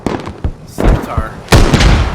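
Sharp blasts and booming impacts in a Squad firefight as a LAT rocket strikes a vehicle, with a loud broadband burst near the end over ongoing gunfire; faint voices mingle in the background.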